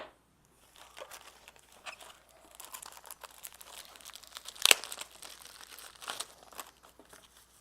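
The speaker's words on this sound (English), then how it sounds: "Unwrap them here." IP security cameras come out of their packaging, with close crinkling and rustling of plastic wrap and one sharp tearing snap midway, fairly quiet against an otherwise still room.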